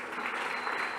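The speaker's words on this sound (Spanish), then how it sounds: "¿Crees que Él merece un aplauso de gratitud?" A congregation claps in church during worship, a brief, steady burst of dense applause.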